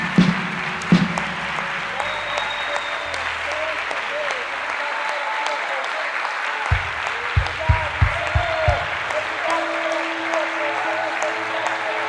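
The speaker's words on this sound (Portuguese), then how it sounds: "Vamos como igreja agora dar nossa melhor salva de palmas para Jesus." A church congregation breaks into sustained, enthusiastic applause that fills the room and keeps going, with a few low thumps and murmurs mixed in toward the end.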